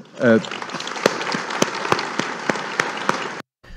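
Ministers, political staff and aides applaud after a speech to the Prime Minister, a dense sustained round of clapping with sharp individual claps standing out, cut off abruptly near the end.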